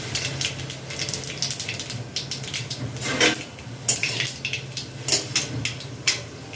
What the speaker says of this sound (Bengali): এবার এতে আমি দিয়ে দিচ্ছি কালো জিরা